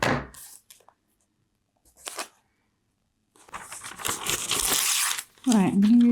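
Scissors trim a few millimetres off the bottom of a paper piece for a junk journal, giving short crisp snips and a longer rustling cut of paper up close, with a voice breaking in at the end.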